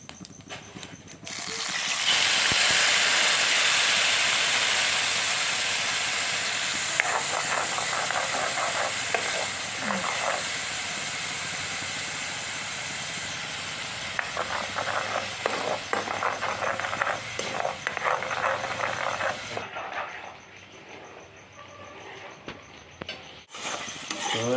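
Paste made from two large onions hits hot oil with whole cumin in a pan, bursting into a loud, steady sizzle that runs for over twenty seconds, with intermittent scraping and stirring of a spoon and brief talk near the end.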